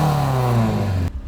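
Honda F22C four-cylinder swapped into a 1977 Toyota Celica with individual throttle bodies, revving hard near the microphone with a rising, rasping engine note that cuts off abruptly.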